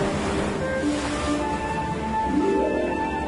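Ocean waves wash steadily in a broad, moderately loud surf roar with wind-like noise, heard alone without voices.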